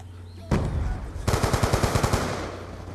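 Gunfire in a Black Ops 2 multiplayer match: a single loud shot, a short pause, then a rapid automatic burst of about a dozen evenly spaced cracks, with a faint voice under the shooting.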